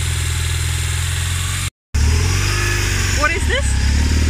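An old motorcycle idles while warming up, a steady close engine rumble broken by a brief dropout, with a few faint bird-like chirps near the end.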